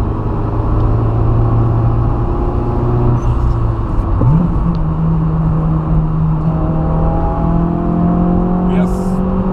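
A turbocharged Lada Kalina revs hard and shifts gears without lifting off the throttle, its steady engine drone rising in pitch between quick changes, loud and close throughout, with voices talking over it.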